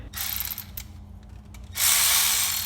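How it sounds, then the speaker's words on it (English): 3/8 ratchet working the bolts on a water pump of a 1998-2002 LS-powered Camaro or Trans Am, quick bursts of clicking pawl chatter, then a longer steady run of ratcheting close by. "I'm gonna go ahead and grab my my 3/8 ratchet"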